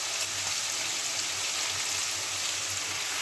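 Vegetables fry in a pan with spinach added for a Bengali palong shaker ghonto, giving a steady, bright sizzle. The crackle runs evenly and close throughout, with no talk over it.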